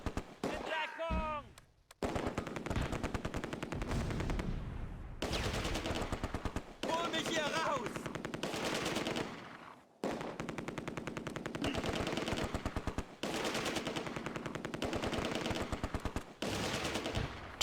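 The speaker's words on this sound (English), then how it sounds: "The mortar and Sergeant Lee's forward right rifle section immediately switch targets." Rifle and mortar fire from the Close Combat: A Bridge Too Far war game at Arnhem: dense bursts of rapid machine gunfire repeat in long volleys, broken by short pauses and occasional heavier blasts.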